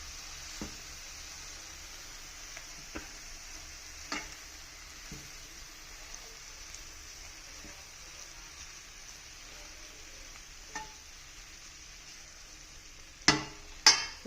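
Kerala-style fish curry is stirred in a frying pan with soft, scattered scrapes and taps over a faint continuous sizzle, with a couple of sharper clinks near the end and no talking.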